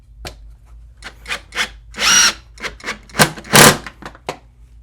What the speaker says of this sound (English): overall, that is an awesome little impact driver